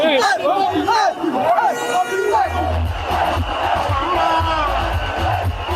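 A large crowd gathers and surges around the arrival of a Ugandan musician-turned-politician, producing a dense, continuous roar of shouting, cheering and chatter, with excited voices rising above the babble and a low rumble underneath.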